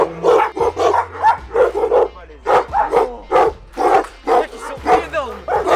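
Several dogs at a breeder's kennel, wolf-like in look, bark over and over in quick loud bursts close by, with a steady mechanical hum under them.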